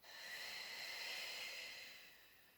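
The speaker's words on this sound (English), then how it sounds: "Breathing deep." Deep breathing during a mind-body relaxation exercise, one long soft airy breath swelling and fading, close and quiet with no speech.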